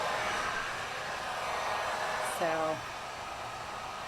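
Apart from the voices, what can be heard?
Wagner heat gun blowing hot air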